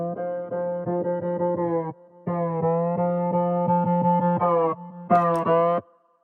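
A frequency-modulated synth with a reverb filter plays a sustained harmonic chord pattern with slow movement, dropping out briefly twice before a brighter, more metallic final stab that cuts off near the end.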